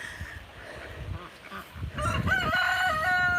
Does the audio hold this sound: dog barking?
no